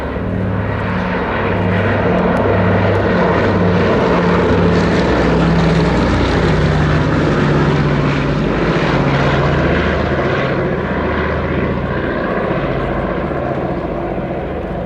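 A Consolidated PBY-5A Catalina flying boat displays at an air show, its twin piston engines and propellers droning loudly and steadily throughout, with a throbbing low pulse and no voices.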